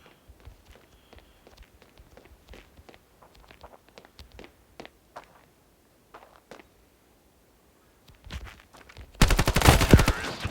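Footsteps and scattered taps give way to a short, loud burst of rapid automatic gunfire near the end in the mobile shooter Standoff 2; no talking.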